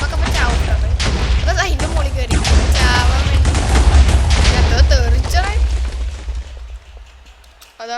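TNT explosions in a village in Minecraft set off a rapid string of booming blasts and crackling bursts with a heavy low rumble, while a person talks over them; the blasts fade toward the end.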